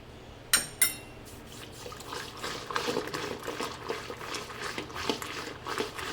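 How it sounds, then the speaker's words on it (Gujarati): Yogurt, water and gram flour being whisked together in a bowl for kadhi, a steady wet churning and sloshing with soft clinks of the whisk against the vessel, close and moderately loud, no talk. "આ રીતે બરાબર વલોવી લેવાનું, એટલે દહીં, પાણી, લોટ બધું બરાબર મિક્સ થઈ જાય"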